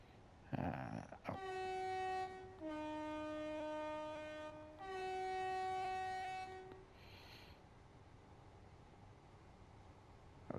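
A Class 375 electric passenger train in the Train Sim World 3 video game sounds a loud two-tone horn in several long sustained blasts over a steady rumbling run, then the horn stops and only the quieter running noise remains.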